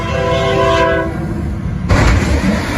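A loud train horn sounds up close in a sustained blast before a train collides with a semi-truck, then cuts off into heavy rumbling rail noise and clatter.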